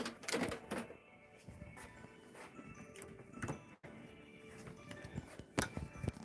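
Sewing machine stitching a dress form cover, heard as a rapid mechanical rattling run that stops and restarts with brief pauses, close by and moderately loud, with no talking.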